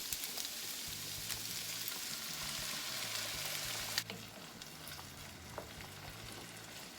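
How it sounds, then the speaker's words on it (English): Tex-Mex potato casserole filling with corn, taco seasoning and enchilada sauce sizzles and bubbles steadily in a pan, with a clink of a utensil midway and no talking. "All right, we'll just let this simmer,"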